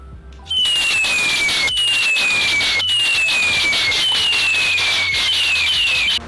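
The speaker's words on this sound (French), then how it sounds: "ils utilisent soit des enregistrements de pétards" A recording of firecrackers at a wedding in Hainan, China: several whistling rockets streak downward one after another, each with a crackling burst, loud and continuous like a string of firecrackers.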